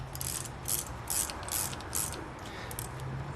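A 7/16 wrench tightens a lock nut on a rebuilt Corvette power steering control valve, heard as rapid faint metallic ratcheting clicks in short bursts, fairly close and quiet.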